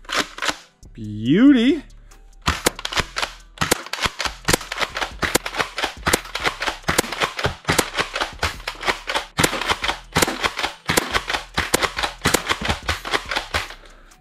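An X-Shot toy dart blaster fires a rapid series of sharp clicking snaps, dozens of shots in quick succession at close range; a person speaks briefly near the start.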